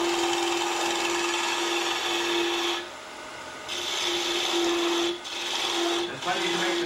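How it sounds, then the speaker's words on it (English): A bowl gouge cutting wood on a lathe, tapering a spinning turning, gives a steady scraping hiss over the motor's hum, broken by short pauses near the three, five and six second marks. "I haven't used my bowl gouge yet,"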